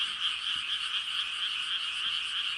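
A steady, loud night chorus of croaking frogs, an unbroken trill with no breaks and no one speaking.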